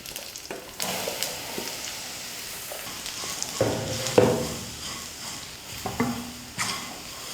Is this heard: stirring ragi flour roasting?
yes